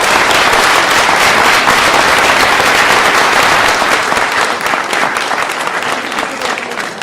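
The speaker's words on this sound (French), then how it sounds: "qu'on peut applaudir" Audience applause at a political party-founding meeting in Bordeaux, a loud, dense and sustained clapping from a large crowd filling the room, fading slightly toward the end.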